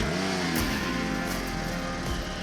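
A loud, steady car engine drone from a racing game made in Unreal Engine 5, driving a circular circuit, with a brief gear shift or rev change early on and no voices.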